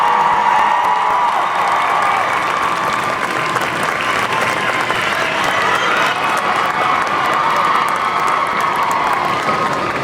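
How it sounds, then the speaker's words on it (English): A large audience at a Harry Potter films tribute event gives loud, sustained applause with cheering and scattered whoops, a dense wall of clapping lasting throughout. "So let's give them another big round of applause."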